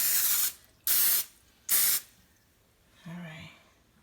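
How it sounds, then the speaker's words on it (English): Three short bursts of cooking spray hiss into a cake pan for a blueberry cake, each about a third of a second long with brief gaps between them, followed by a softer rustle and a faint murmur. "you want to make sure your eyes aren't in a situation where they are being exposed to the oil that you're spraying"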